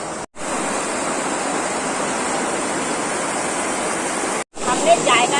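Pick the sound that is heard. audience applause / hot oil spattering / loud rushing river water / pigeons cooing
loud rushing river water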